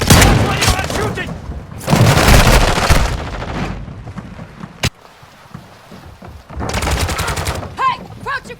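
Gunfire in the mobile shooter Warzone Mobile, loud bursts of automatic fire in two long stretches with a sharp single crack between them, dense and close.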